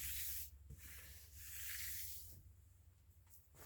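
Sandpaper rubbing in a few strokes, a soft scratchy swish that rises and falls, close and quiet, with no voices.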